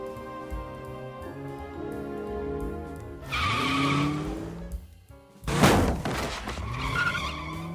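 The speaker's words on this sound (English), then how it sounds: "Quagmire then turned the car around and ran Brian over" Cartoon car in Family Guy: a rising tire skid and squeal, a brief drop-out, then a sharp loud burst as the car lurches off, with engine noise trailing under music.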